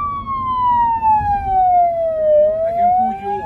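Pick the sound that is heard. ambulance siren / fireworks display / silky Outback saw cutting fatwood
ambulance siren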